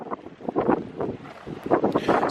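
Wind blows across the microphone outdoors beside a 2024 Suzuki Swift Ultra, making loud, uneven rumbling gusts that swell and fade in short bursts.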